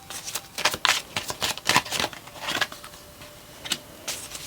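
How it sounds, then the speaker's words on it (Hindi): A deck of tarot cards is shuffled and drawn, with quick riffling flutters and snappy card flicks close by, tapering to occasional single card sounds. "यहाँ से कुछ कार्ड्स निकालते हैं।"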